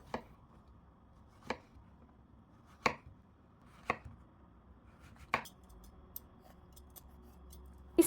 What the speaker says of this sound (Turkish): Şimdi kabakları doğrayacağım. Uç kısımlarını bölmeden e, geniş kısımlarını da ortadan ikiye bölerek doğruyorum.